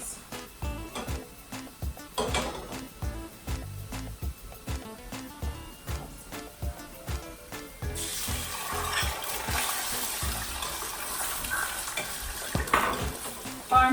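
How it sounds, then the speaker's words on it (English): Eggs are scrambled in a pan with Trader Joe's chicken chilaquiles rojo, rapid rhythmic scraping and stirring over a crackling sizzle that grows brighter and denser in the second half. "I'm going to add and scramble my eggs"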